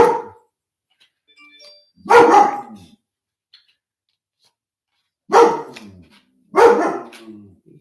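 A dog barks in separate bursts, one near two seconds and a close pair later on, loud and near with quiet gaps between and no talk over it.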